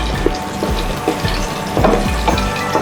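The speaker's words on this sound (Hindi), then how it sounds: "घी गर्म हो चुका है, इसमें ये 4 छोटी इलायचियाँ जिनके मैंने मुंह खोल दिए हैं ये शामिल करते हैं।" Small green cardamom pods, split open, frying in hot desi ghee, a continuous close sizzle and crackle with occasional soft stirring taps.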